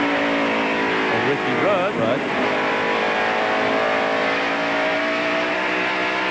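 NASCAR stock cars race around a banked 36-degree track at the 1993 Bud 500, with loud, continuous engine roar and revving that rises and falls while a commentator talks over it.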